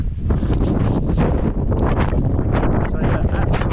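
Strong wind buffets the microphone on the 711 m summit of Tinto Hill, a loud, continuous roaring rumble that rises and falls in gusts.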